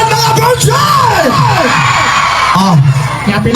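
A concert crowd in Pontevedra, Capiz whoops, yells and cheers loudly and continuously, with rising and falling shouted voices layered over a steady roar of noise.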